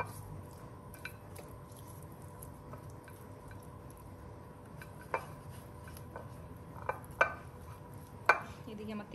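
Food being mixed by hand in a bowl in a home kitchen, soft wet squishing under a low background hum, with a few sharper clicks and taps from the bowl near the end.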